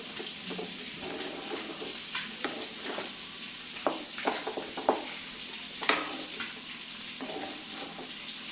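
A curry mixture is stirred in a pan over steady frying sizzle, with irregular scraping strokes and soft clinks spread throughout and no voices.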